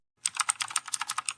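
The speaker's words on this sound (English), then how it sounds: "Who's that typing in the comments?" Fast typing on a computer keyboard: a quick, steady run of crisp key clicks, close and clear, starting after a brief silence, with no voices.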